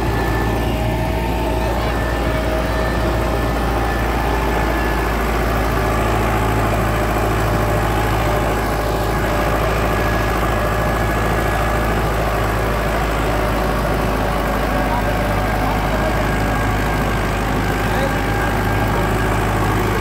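A stock Preet 6049 tractor engine runs steadily nearby, a loud, continuous low diesel drone with no breaks.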